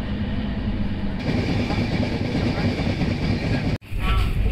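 Passenger train on a Howrah to Jammu Tawi journey rumbles steadily along the rails, a loud continuous low roar with a brief dropout near the end, with faint voices in the carriage.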